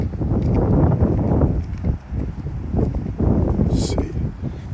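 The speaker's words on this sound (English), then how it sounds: "It got real windy out of nowhere." Gusty wind buffets an outdoor microphone with steady low rumbling roar, swelling and dipping in waves for several seconds, loud and close.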